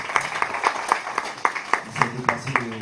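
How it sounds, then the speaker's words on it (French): A small audience claps at a conference for Lamine Savané, with sparse, fairly steady handclaps that stand out individually rather than forming a dense roar, and light murmuring underneath. "Je pense qu'il faut l'applaudir."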